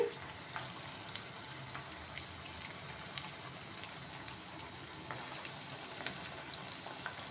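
Moong dal and sago vadas frying in hot oil, producing a soft, steady bubbling sizzle throughout, fairly quiet and close with no voices.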